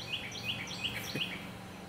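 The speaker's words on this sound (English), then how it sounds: "birds are chirping." Several small birds chirp outdoors in a quick series of thin, high tweets. They sound faint and somewhat distant over a low background hum.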